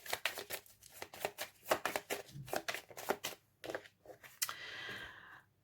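Tarot cards are shuffled by hand in quick rapid riffles and flicks, a string of close crisp slaps and ruffles, ending in a softer sliding rustle as a card is drawn.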